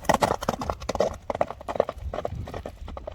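A horse's hooves clip-clop on the ground in a quick, uneven galloping rhythm, fairly close and moderately loud, with sharp repeated thuds across the whole stretch.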